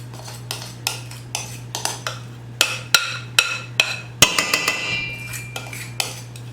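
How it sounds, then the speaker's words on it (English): A utensil scrapes a bowl of creamy cheese sauce made with Parmesan, cream cheese, sour cream and mozzarella, producing a rhythmic series of close clinks and scrapes, about a dozen strokes, with no talking. "Gotta make sure we scrape the bowl"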